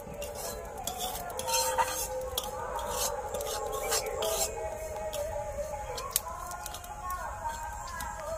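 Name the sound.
stirring semolina frying in a pan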